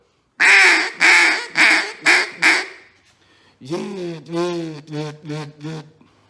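Five loud, raspy duck-call quacks in a steady descending cadence, followed by a softer run of nasal, voiced quacks that taper off.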